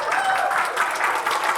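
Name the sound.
audience applause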